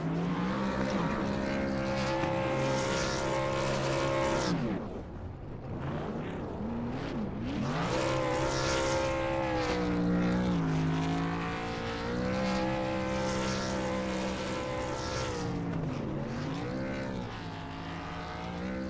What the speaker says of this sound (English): And that's how you do burnouts there